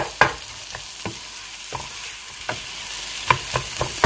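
Mashed potato samosa filling being stirred in a hot pan, with a low continuous sizzle and a handful of sharp spoon taps and scrapes spaced irregularly, close up and with no talking.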